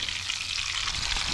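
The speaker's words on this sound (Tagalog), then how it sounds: "ito piniprito ko yung galing sa Pilipinas" Food brought from the Philippines frying outdoors in a pan, a brief, steady close sizzle and crackle of hot oil, fairly loud, with no talking.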